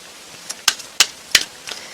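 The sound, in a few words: shuffling tarot cards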